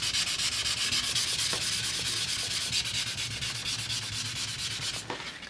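A car body panel is hand sanded with 400 grit sandpaper before base coat, making steady rapid back-and-forth rasping strokes, close and fairly loud, continuing without pause until a brief break near the end.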